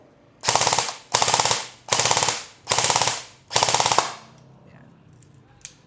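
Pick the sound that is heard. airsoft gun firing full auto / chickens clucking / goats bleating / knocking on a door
airsoft gun firing full auto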